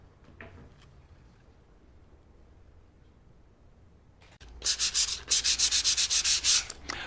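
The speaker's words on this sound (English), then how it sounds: "When the filler is dried, sand it smooth." Sandpaper rubs over dried two-part wood filler, smoothing a filled gouge in wood. After a quiet pause come about a dozen quick, close, scratchy back-and-forth strokes in a steady rhythm.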